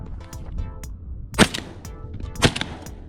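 A Benelli Super Black Eagle 3 shotgun fires at a thrown clay target outdoors, with two sharp, loud reports about a second apart against a light breezy background.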